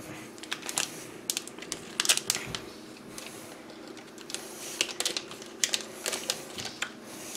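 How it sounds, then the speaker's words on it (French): Crinkly tearing and rustling of a small Hero Realms card pack wrapper being pulled open, in uneven bursts of crackling plastic close to the listener. "Quasiment dommage de déchirer le petit sachet."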